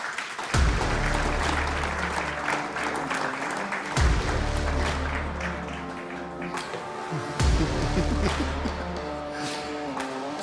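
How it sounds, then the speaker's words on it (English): Audience applause at a mobility transformation forum welcomes the CEO of Volvo Group to the stage, sustained clapping from a large room with a few loud sharp thumps of handling or footsteps standing out at intervals. "thank you very much for the warm applause"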